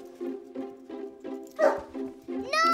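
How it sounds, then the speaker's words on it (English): A dog gives a string of short, rhythmic yips and barks, close and clear, with a higher whine at the end. "It's Grandma and Mossy the dog"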